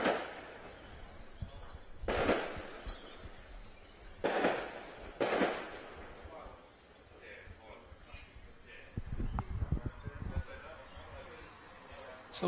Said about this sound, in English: Somebody's speculating that maybe somebody's letting off some fireworks.